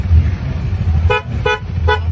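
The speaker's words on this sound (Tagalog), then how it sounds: "Horn." A motorcycle horn honks three times in short, evenly spaced bursts over a steady low engine rumble.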